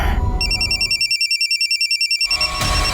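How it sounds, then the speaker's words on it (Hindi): Telephone ringback on an outgoing call, a loud electronic ring of rapid warbling pulses lasting about two seconds, alone in a quiet pause between background noise. "रुक मैं फोन लगा के देखता हूँ।"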